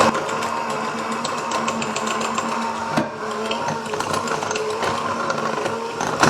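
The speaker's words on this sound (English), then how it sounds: "you like my cordless KitchenAid mixer?" A cordless KitchenAid hand mixer creams butter with powdered erythritol, a loud steady motor whir with rattling beaters knocking against the bowl, continuous and close throughout.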